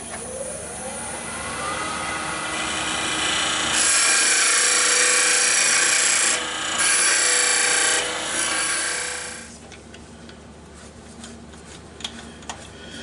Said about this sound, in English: Now with the skew we'll get a bit of a dovetail put into that.